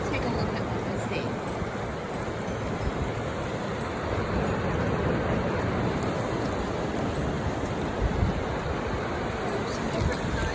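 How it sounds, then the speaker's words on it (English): Ocean waves wash in over a shell beach with a broad, steady surf rush, wind buffeting the microphone, and a slight swell toward the end. "you can see the water's coming in."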